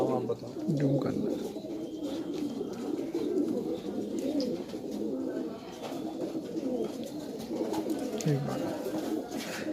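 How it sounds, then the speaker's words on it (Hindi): Brown Bajra pigeons coo continuously in a dense, low murmuring chorus at a loft, close and steady throughout, with soft chirps and other birds faintly in the background. "ये भूरे बाजरे कबूतर है"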